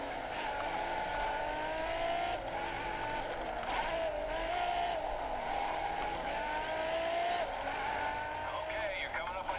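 A race car in the Grid video game on Steam Deck: a loud, steady engine whine that rises and falls with gear shifts, with occasional tire squeal and someone talking over it.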